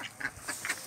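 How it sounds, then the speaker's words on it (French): Naked neck ducks at a breeding farm give a few soft, quick quacks, faint and somewhat distant, over low background noise. "voilà les canards cou nus"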